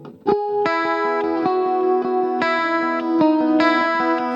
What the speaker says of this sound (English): That's me accentuating the open E, which kind of sounds a little weird.